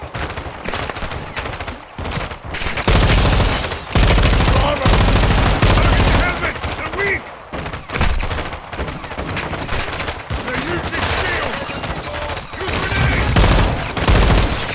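Heavy automatic gunfire and bursts of shooting from the Modern Warfare II video game fill the scene loudly and almost continuously, with brief lulls between volleys and battle noise layered throughout.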